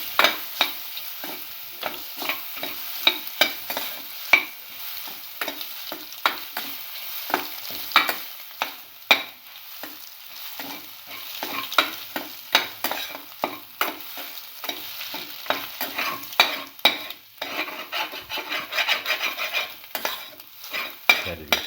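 Egg and black pepper stir fry sautéing in a pan, with a continuous sizzle under dense, rapid scraping and stirring strokes that run close and steady throughout, with no voices.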